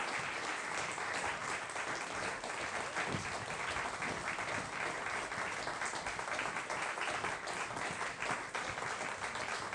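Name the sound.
audience applause for performers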